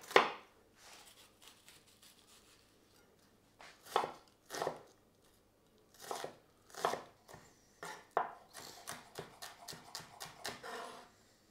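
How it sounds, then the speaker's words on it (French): Knife coarsely chopping an onion on a board, sharp close cuts coming in irregular bursts, single strikes early on and quicker runs of chops toward the end, with quiet gaps between. "On prépare l'oignon, on le cisèle grossièrement."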